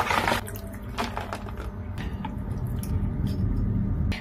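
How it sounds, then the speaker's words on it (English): Small omena (dagaa) fish being rinsed by hand in a basin of water, with soft sloshing and squishing, a few light splashes and drips, close and quiet. "If it's this omena, I wash it 3 or 4 times before I cook it."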